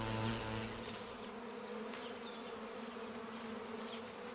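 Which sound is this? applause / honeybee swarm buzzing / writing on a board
honeybee swarm buzzing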